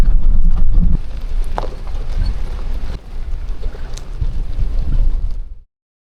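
Chilly wind buffets the microphone at a mountain lookout tower in the Gila National Forest, loud and close, with deep rumbling gusts that ease and surge, dip briefly midway, then cut off abruptly at the end.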